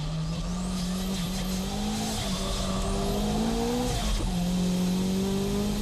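A turbocharged Nissan S15 and a Honda NSX race closely around Fuji, engines droning loudly and continuously with shifting pitch as they accelerate and brake, with brief tire squeal.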